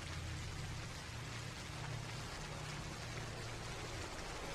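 Steady rain falls in a continuous, even hiss with no distinct drops or thunder, heard alone throughout at moderate loudness.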